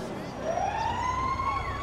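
Fire truck siren in GTA 5, a rising wail sweeping upward and holding steady as the engine approaches, fairly loud over a dense low rumble of traffic and game ambience.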